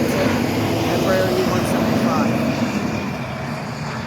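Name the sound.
Embraer E-175 aircraft arriving at Cleveland airport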